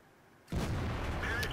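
A single heavy tank cannon shot from the Object 704 in World of Tanks bursts in abruptly and loud, its booming roar and rumble sustained to the end, with no talk over it.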